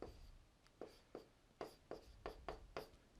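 Pen or marker strokes writing out a calculus derivation, about eight short scratchy bursts in an irregular rhythm, faint and close, with no talking.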